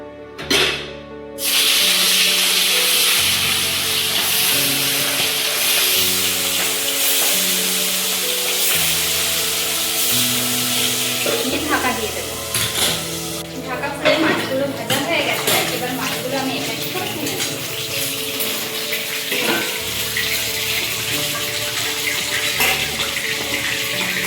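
Ritha fish sizzle steadily as they are slid into hot mustard oil in a pan, a dense, loud frying hiss that starts abruptly and keeps going, with a voice talking over it.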